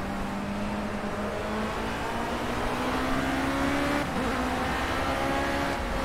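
A race car engine at Laguna Seca in a racing game, a steady loud drone whose pitch rises slightly then dips as the car brakes into a corner, with no talk.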